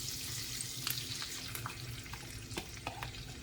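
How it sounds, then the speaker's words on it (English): Four eggs hitting a hot pan for a breakfast-for-dinner meal, a steady close sizzle and frying crackle with a few small pops and scraping stirs. "Now I'm going to go ahead and add my eggs."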